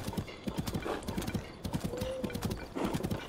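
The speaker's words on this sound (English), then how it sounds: "And a lot of horses." Horse hooves clip-clop in The Legend of Zelda: Tears of the Kingdom, a steady, rhythmic trot of moderately loud hoofbeats that runs throughout with a brief tonal cry partway through.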